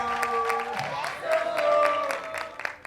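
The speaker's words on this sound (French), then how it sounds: "C'est Mme Lin qu'on vous demande d'applaudir." Scattered audience clapping at a business conference in Benin rises and falls beneath sustained musical tones, with a voice briefly audible over it.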